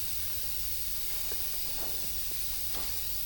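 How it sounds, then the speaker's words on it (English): An air hose blows out the lower unit of a 25 HP Yamaha boat motor, giving a steady broad hiss of compressed air that runs throughout at close range, with faint clicks and knocks underneath. "And clean these out a little bit with the air hose."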